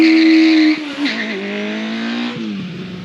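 A Kawasaki ZL900 Eliminator motorcycle engine revs high, then drops and settles into a loud, close, strongly tonal wail that slowly falls in pitch, with no voices.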